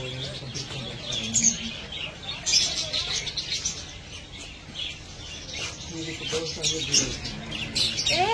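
Birds chirp and tweet in scattered bursts around a farmhouse, with some cooing, forming a steady, fairly faint outdoor chorus with no talking.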